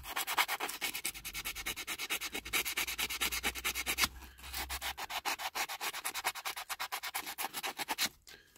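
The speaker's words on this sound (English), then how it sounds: "Then just rub it over with a bit of sandpaper." Sandpaper rubbed over a 1960s Dinky Toys diecast Vauxhall toy car, fast regular back-and-forth scratching strokes, close and steady, with a brief pause midway and no voices.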